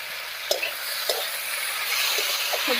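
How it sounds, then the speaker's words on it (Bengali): Vegetables, potato and eggplant, fry in hot oil with chili and ginger-garlic paste, giving a constant close sizzle with a few soft spatula taps and stirring scrapes. "প্রথমে দিয়ে দিচ্ছি লঙ্কা আর আদা রসুন বাটা"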